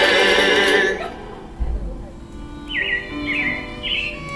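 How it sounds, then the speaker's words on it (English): Animatronic robins in the Carousel of Progress show at Walt Disney World's Magic Kingdom give three short, bright chirps in quick succession late in the clip, after a fading musical passage, with a low rumble of theater ambience beneath. "it looks like the Robins are getting ready to celebrate Valentine's Day today"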